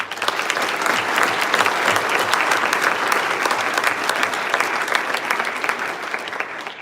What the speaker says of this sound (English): please join me in applauding the 2020 matrics for the achievements that they've made this year